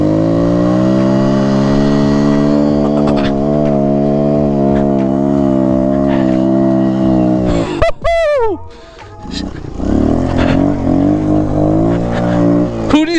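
A Kawasaki KLX 110 pit bike revs hard while doing burnouts in snow: a loud, close, sustained high-revving engine drone, then a sudden pitch swoop and drop, followed by rougher, noisier revving.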